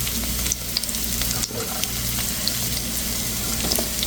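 Garlic and onion frying in hot oil, a dense, continuous sizzle with a few small pops and clicks, close and steady without a break.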